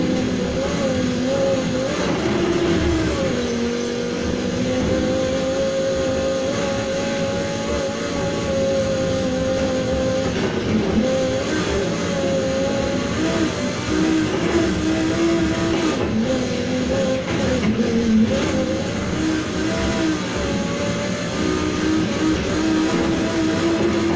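An Audi R8 V10 Performance '19 races in the video game Need for Speed Heat, its engine droning loudly and steadily with tonal pitch rising and falling through gear changes and revs, alone without talk.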